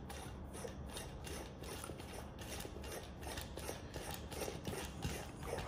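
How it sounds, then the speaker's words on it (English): A mic stand being screwed together by hand, giving a steady, close-up scraping and clicking of threaded parts turning, with no talk. "Mic stand, simply screw it in."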